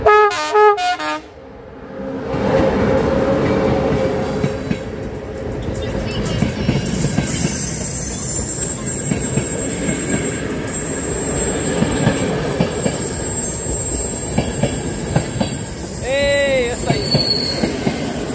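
A train rolls past on the Prahova Valley line near Sinaia in Romania's mountains, loud and close, with a horn blast at the start, rumbling wagons, clattering wheels and squealing brakes, and a brief voice near the end.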